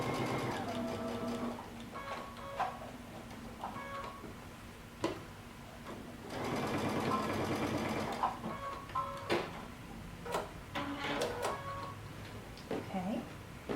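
Sewing machine stitching a coat seam, with bursts of steady mechanical whirring interrupted by short pauses and ticks, fairly quiet and close.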